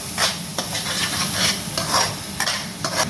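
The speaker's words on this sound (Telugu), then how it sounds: "బాగా వేయించాలండి." Spices with turmeric and chili powder sizzle and fry in a pan while being stirred, a loud continuous crackle broken by scraping strokes of the spoon, close up.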